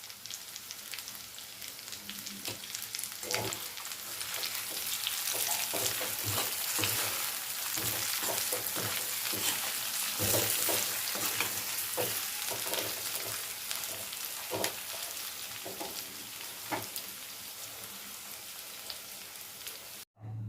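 Chicken pepper fry sizzles steadily in a pan while being stirred, with scraping strokes of a spoon recurring over the crackle, close and moderately quiet.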